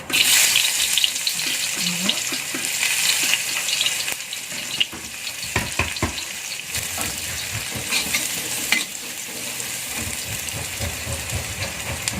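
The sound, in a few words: shallots sautéing in hot oil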